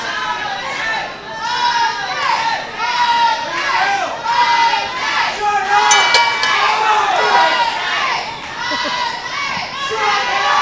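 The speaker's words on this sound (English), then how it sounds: "The crowd is hot tonight. You can hear them screaming at the top of their lungs." Wrestling event crowd screaming and cheering loudly and continuously, with shrill high voices and chanting swells filling a packed indoor arena, close and sustained throughout.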